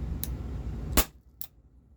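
A Walther PPS M2 CO2 airsoft pistol fires with blowback, giving one sharp, close, snappy crack, with a fainter click just before it and a softer mechanical click just after.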